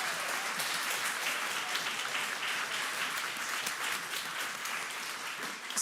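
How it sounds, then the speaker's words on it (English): Conference audience applauding steadily for about six seconds, dense sustained clapping from a full room with no voices over it. "I want to ask all of us to, a round of applause"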